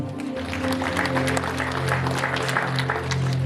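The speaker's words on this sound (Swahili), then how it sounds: "Asante, tupigie makofi." A gathered audience at a memorial tribute claps steadily in dense, continuous applause for a few seconds, with a low tonal hum underneath.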